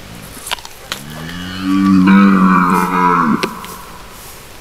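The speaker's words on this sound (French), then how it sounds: "il y a pas mal de cerfs que j'entends un peu plus loin" A red deer stag belling during the October rut lets out a single long, deep, drawn-out roar that swells and then fades, loud and close against a faint outdoor background.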